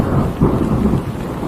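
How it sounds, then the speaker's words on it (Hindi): Heavy rain pours steadily with low rolling thunder rumbling through it, a dense close wash of noise throughout with no voices. "अगले 2 दिनों तक और तेज बारिशें हुई।"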